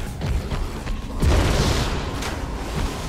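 A booming explosion in the horror video game Dark Deception, a broad rumbling blast that swells and lingers over a dense, noisy game background, with no clear speech.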